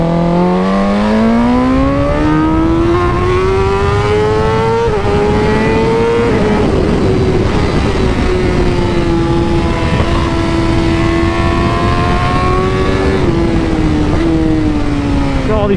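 A superbike screams around a race track, its engine climbing steadily through the gears with smooth rising pitch and brief shifts, loud and close throughout from an onboard perspective.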